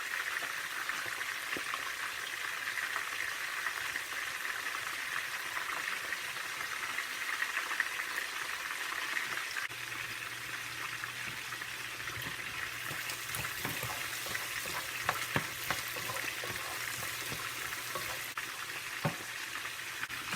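Fresh whiting fillets, seasoned with salt, pepper and lemon juice, fry in a pan with a steady, close hiss and sizzle, with occasional spits and pops and a few light clinks of a utensil.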